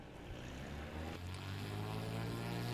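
Cessna 206 at a STOL competition, its piston engine and propeller droning steadily with a low, slowly rising hum, sustained and moderately distant over open outdoor air.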